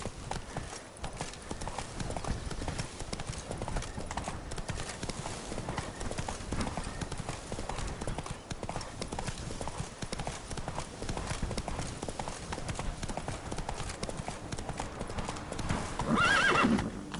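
A horse gallops in The Witcher 3 with steady, close clip-clop hoofbeats throughout, ending in a loud whinny.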